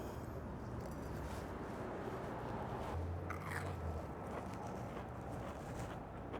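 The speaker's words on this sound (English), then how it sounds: "Such a wonderful, crusty crunch all the way." A bite into a crispy smoked mozzarella stick gives a short crunch partway through, close but fairly quiet against background hiss.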